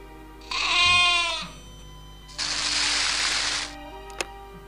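A sheep in the Catan board game app bleats loudly once with a wavering cry. A longer breathy burst and a sharp click follow, all alone without talk.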